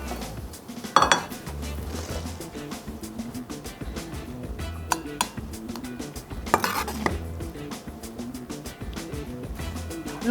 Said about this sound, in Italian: E ora mischio tutto molto delicatamente e poi possiamo impiattare.